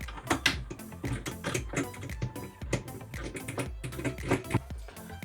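A threaded rod with a star knob is screwed into a tool cart's pipe, giving a rapid run of small metallic clicks and ratcheting taps, close and fairly loud, with no voices.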